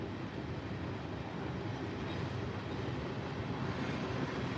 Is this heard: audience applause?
no